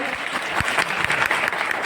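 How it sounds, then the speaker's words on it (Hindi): During a training session of a national self-respect movement, a seated audience breaks into brisk, dense clapping to welcome a speaker. The applause stays loud and even for a couple of seconds. "मैं सबसे आग्रह करता हूँ कि तालियां बजाकर हम उनका अभिनंदन करें"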